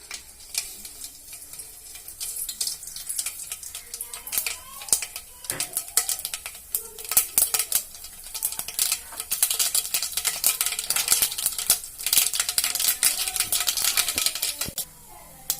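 Mustard seeds splutter in hot oil that was used to fry potatoes for a potato pickle, giving dense, rapid crackling pops that swell in intensity and continue steadily for several seconds.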